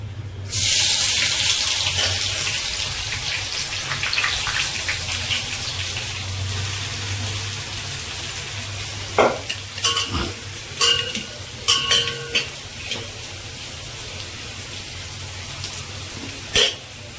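About 700 grams of chopped onion for a two-kilogram mutton curry hit the pan with a sustained sizzle, then scattered stirring clatters and scrapes close by, with no talking.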